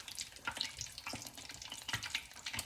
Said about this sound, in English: fry these in small batches so they don't stick together. Drop them in.